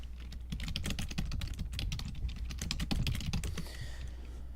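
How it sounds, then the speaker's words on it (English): Rapid typing on a computer keyboard, a dense, uneven run of close clicking keystrokes lasting several seconds with no talk over it. "I'm gonna type on my keyboard here"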